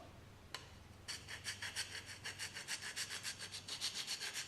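Hand plane sole rubbed back and forth across a flat surface during a tune-up, a quiet rhythmic scraping of repeated strokes after a single tap, fairly faint and without talk.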